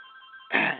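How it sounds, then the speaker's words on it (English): An indoor telephone rings, a steady electronic tone that swells into a louder, fuller ring burst partway through, heard alone. "sorry about the ringing phone"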